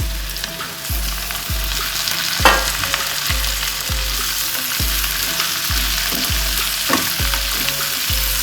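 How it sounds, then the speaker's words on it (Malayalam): Chopped capsicum sizzles loudly as it fries with sautéed onions in a hot pan for chilli egg, with a steady crackling hiss, regular scraping stirs about every half second, and a few louder clanks. "വഴന്ന സവാളയിലോട്ട് നമ്മൾ പരിഞ്ഞ് വെച്ചേക്കുന്ന ക്യാപ്സിക്കം ഇല്ലേ, അത് ഇട്ട് കൊടുക്കാം"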